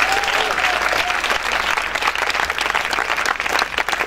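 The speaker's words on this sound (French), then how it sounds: "Est-ce qu'on peut acclamer Jésus-Christ?" A congregation at a spiritual retreat claps and cheers in praise of Jesus Christ, making a dense, sustained wall of applause with a few raised voices near the start.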